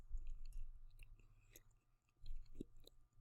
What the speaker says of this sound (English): I'm chewing a pretzel.